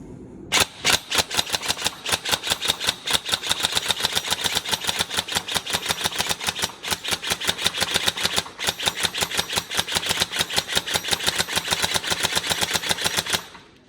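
A Tokyo Marui 416 NGRS electric airsoft rifle fires a long rapid burst of sharp mechanical shots, tightly spaced and loud, running nearly nonstop for about thirteen seconds with brief gaps.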